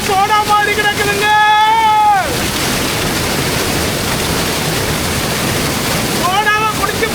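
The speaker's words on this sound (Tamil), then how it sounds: "ஓடுற தண்ணி எல்லாம் சோடா மாதிரி கிடக்குதுங்க" Clear stream water flowing in a village near Kilinochchi, a steady loud rushing wash that runs continuously, with a voice speaking over it at the start and again at the end.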